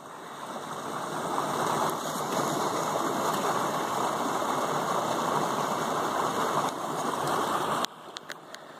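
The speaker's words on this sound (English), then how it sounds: "On the side of a brook here." A brook runs beside a climbing crag, its flowing water a steady broadband rush close by and loud, continuous until it drops off near the end.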